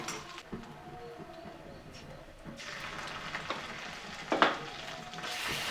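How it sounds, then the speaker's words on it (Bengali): Ginger garlic paste frying with deep-browned onions in a pan for Bengali potato chops, a continuous sizzle with occasional stirring scrapes that brightens and grows louder partway through, with a voice talking over it. "ভালোভাবে আদা রসুন বাটাটাকেও ভেজে নিব বেরেস্তার সঙ্গে"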